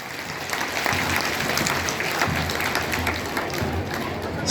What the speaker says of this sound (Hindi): एक बार सभी के लिए दोनों हाथ ऊपर उठाकर ताली बजा करके स्वागत,